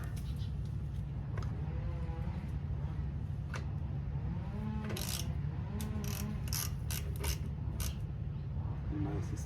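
A ratchet wrench tightening the transmission drain plug on a Harley-Davidson Softail Street Bob, quick clicking pawl runs that come in short bursts, close and fairly quiet over a steady low hum.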